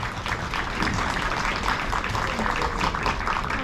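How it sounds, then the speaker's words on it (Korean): Guests at an outdoor Korean wedding ceremony clap together, a moderately loud, continuous patter of hands with crowd murmur beneath. "큰 박수 부탁드리겠습니다."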